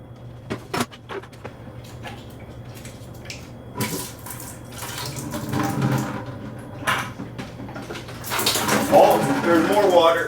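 Water running and splashing out of an opened fire sprinkler pipe in a garage, a steady rushing flow that grows louder toward the end, with clanks of handling and a person talking at times.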